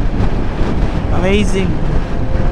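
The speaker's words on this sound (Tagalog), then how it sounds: "Ah, napakalakas ng hangin." Strong wind roars and buffets the microphone during a motorcycle ride on a road in Negros Occidental, while someone speaks briefly over the steady rushing noise.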